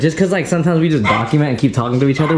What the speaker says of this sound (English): Sorry about the noise, man. My dog.